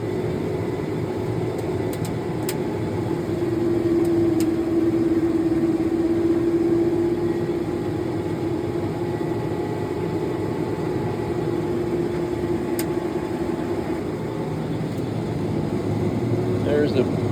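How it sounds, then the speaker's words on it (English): A combine harvester unloads soybeans from its grain tank through the auger, a steady loud mechanical drone and whir running continuously with a faint sustained tone, no voices heard. "I'm going to push this button, and the grain's going to start flowing."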